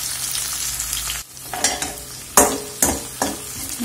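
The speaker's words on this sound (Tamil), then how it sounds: "நல்லா கொஞ்சம் வதங்கட்டும்." Onions sautéing in a pan for Madras-style aviyal, a steady sizzle and frying hiss broken by several sharp stirring scrapes, close and loud with no talking.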